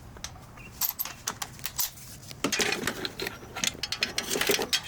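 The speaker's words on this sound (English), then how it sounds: "what I'm going to do here is just crack it loose, and I'm going to get it with the cordless ratchet" A cordless ratchet loosens a bolt during turbo removal on a BMW G80 M3, heard up close as rapid mechanical clicking and whirring bursts, intermittent at first and then more continuous, with no talking.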